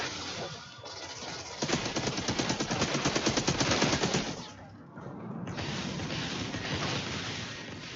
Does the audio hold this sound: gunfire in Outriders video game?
yes